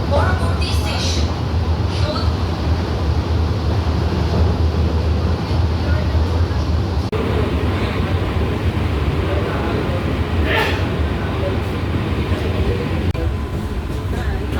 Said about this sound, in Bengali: আমাদের ট্রেন ক্রস করছে আগরপাড়া রেলওয়ে স্টেশন।